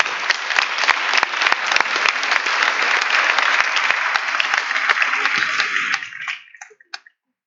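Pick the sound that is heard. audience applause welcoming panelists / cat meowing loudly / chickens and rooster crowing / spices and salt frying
audience applause welcoming panelists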